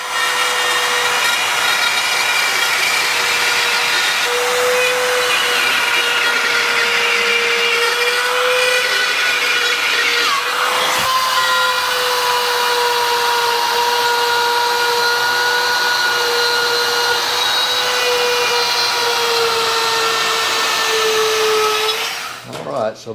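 A power tool cuts through sheetrock along a window sill during a kitchen renovation, giving a loud, steady high-pitched whine that runs almost unbroken for over twenty seconds before cutting off.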